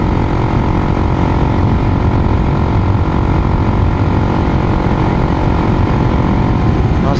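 Honda XR400R motorcycle engine with a stock rejetted carburetor running steadily and loud, a continuous close-up drone with no gaps.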